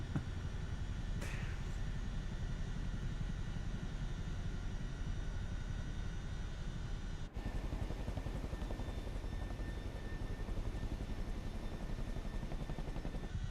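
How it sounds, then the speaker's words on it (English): Chinook twin-rotor helicopters in Microsoft Flight Simulator 2024 give a steady loud rotor thump and engine roar that continues throughout, with a brief click partway through and no voices. "what is going on with all those Chinooks up there?"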